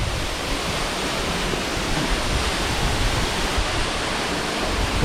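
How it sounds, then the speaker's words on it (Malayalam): Kadamagundi waterfall in Karnataka thunders as water drops from a great height onto rocks, a loud, constant, broadband roar close at hand with no other sounds. "എന്താ വെള്ളച്ചാട്ടം!"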